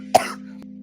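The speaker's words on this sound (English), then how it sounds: "apologize for the cough today" A single short cough, close and fairly loud, from a sports talk-show host, followed by a faint brief click over a steady low hum.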